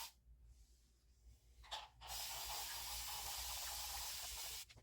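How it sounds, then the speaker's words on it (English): A continuous-spray aerosol-style bottle mists water over boho box braids, with brief spritzes followed by a long sustained hiss close to the mic that stops abruptly. "So let me go ahead and just spray it down thoroughly with some water."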